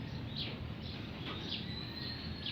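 Faint, evenly spaced calls from loft-kept pigeons rise above a steady low rumble, with no one talking.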